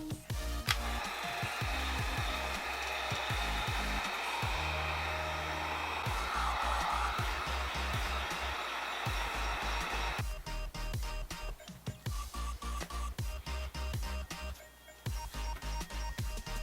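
A heat gun blows a steady rush of hot air onto craft foam for heat forming a helmet, running continuously and close, with a faint rubbing or handling noise over the top.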